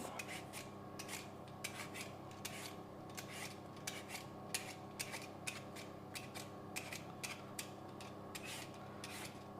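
Produce skin comes off under a peeler in a quick, even series of short dry scraping strokes, close and quiet, repeating steadily with no talking.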